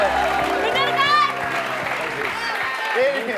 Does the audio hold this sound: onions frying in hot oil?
no